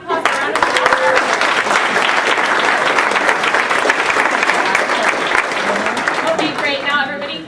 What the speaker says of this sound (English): Now let's give these folks a round of applause.